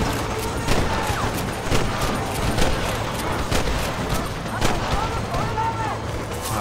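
Rapid bursts of Red Dead Redemption gunfire on PS5 crackle continuously over a dense, noisy mix, with voices talking underneath.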